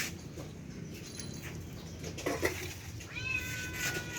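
Faint, high-pitched kitten mews come in a couple of short cries over a steady background hiss, with light scuffling.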